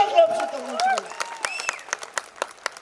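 Scattered clapping from an audience at an ADMS e-bike success meet at MS Garden, Shamshabad, Hyderabad. Individual sharp claps ring out irregularly after a brief stretch of voices at the start.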